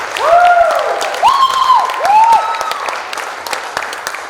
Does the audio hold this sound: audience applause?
yes